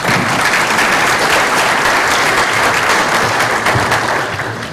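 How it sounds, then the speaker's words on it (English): Steady audience applause for the participants at a seminar, many hands clapping densely and loudly, with no pause or lull. "let's give them a round of applause"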